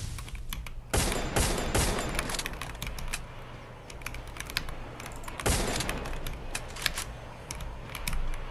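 Rapid bursts of gunfire in the Free Fire video game, loud crackling volleys starting near one second and again around five and a half seconds, with scattered single shots in between.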